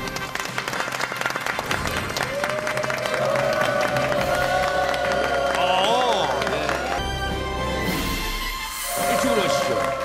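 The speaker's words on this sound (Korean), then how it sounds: "박수로 환영해 주십시오." Studio audience on a Korean health talk show clapping and cheering loudly to welcome a professor guest, sustained applause with music and a host's voice over it.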